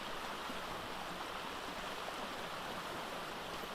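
A waterfall in the video game Ark gives off a constant, even rushing hiss of falling water, moderately loud and unbroken throughout with no voices.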